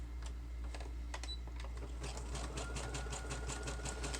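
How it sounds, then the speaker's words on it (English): A sewing machine stitches through paper in a handmade journal, sounding as a fast, steady run of close mechanical clicks that is sparse at first and then quick and even, with a low constant hum beneath. "So then I'm going to sew this here."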